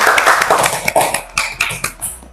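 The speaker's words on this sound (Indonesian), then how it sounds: "beri aplaus untuk Ali" Classroom applause for a student presenter in an Indonesian school lesson, with a short burst of scattered clapping that thins out into a few separate claps.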